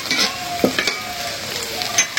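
Vegetable bhaji with egg fries in a hot pan, a close, steady sizzle broken by a few scraping stirs of the spatula.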